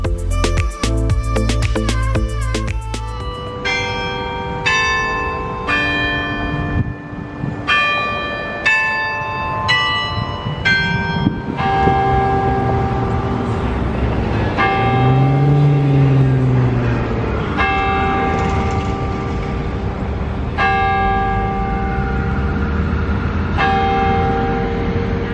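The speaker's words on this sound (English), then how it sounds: "It goes off every 15 minutes with beautiful chimes, and it is just the best place on the quad to go and study by." Denny Chimes, the bell tower on the University of Alabama quad, rings out a slow melody of struck bells with long ringing tails, heard outdoors alongside a passing vehicle rumble and low ambient noise.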